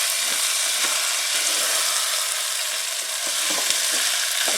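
Tomato sauce stirred into food frying in a pan, with a steady broadband sizzle and scraping stir strokes running continuously throughout, close and fairly loud.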